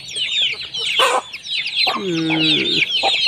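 Chickens on a farm cluck close by, with a loud drawn-out squawking call in the middle and steady chirping from chicks underneath throughout.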